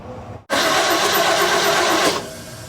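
A 1970 Ford engine, parked for 22 years, cranks continuously for about a second and a half with a steady dense whir before stopping, loud and close with no talking.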